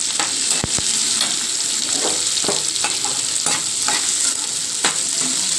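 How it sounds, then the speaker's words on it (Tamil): Chopped onions and chilies sauté in hot oil with mustard seeds, a steady close sizzle broken by sharp scraping and clacking from a stirring spoon at irregular intervals. "வெங்காயம் மிளகா நறுக்கி வச்சோம்ல அதை போட்டுக்கலாம்"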